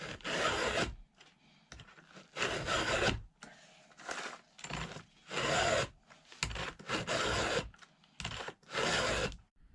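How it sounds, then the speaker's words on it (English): A file scrapes across the chain of a 1970s Stihl 031AV chainsaw during sharpening, in close, distinct strokes of roughly a second each separated by short pauses, with no talk. "That's where I usually start sharpening, is just past the links."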